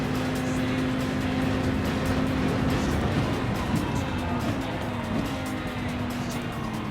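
A Porsche race car circling the Daytona circuit in a group 3 race, its engine droning loud and steady from close by alongside other cars, with a faint voice underneath.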